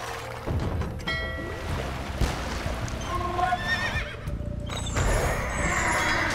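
Horses from the strategy game Age of Empires II give several sharp whinnies over a bed of clip-clopping hooves, the neighs rising clearly above the steady trotting, with no voices.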